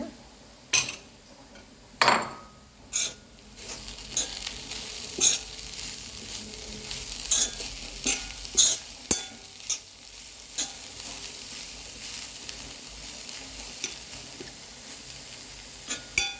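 Shallots, crushed bird's eye chili and curry leaves fry in a pan with a soft steady sizzle, broken by sharp clinks and scrapes of a spoon stirring against the metal.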